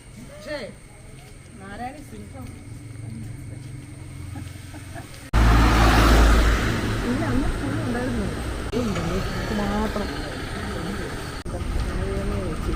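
A vehicle passes close by on a road, its loud rumble surging suddenly midway and then fading, while people keep talking throughout.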